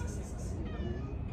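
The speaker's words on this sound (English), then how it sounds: "Now we have the whole city invested in rescuing the cat." Cat meowing during a rescue attempt in a city at night, a short meow heard softly under people talking and a low rumble of background noise.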